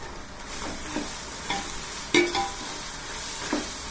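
Ginger garlic frying with rock salt in a pan for mutton biryani, a steady sizzle broken by several scraping stirs, loud and close with no talk.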